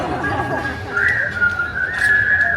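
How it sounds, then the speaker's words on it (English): A crowd at Walt Disney World whistles along together, a sustained shrill melody rising over a noisy, murmuring background with scattered voices. "Now, you all whistle while we all work."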